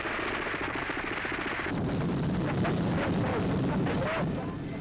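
Heavy enemy machine gun fire in WWII archive footage of the German campaign in Belgium, Holland and France: rapid rattling bursts over a rough, noisy background, faint and distant-sounding.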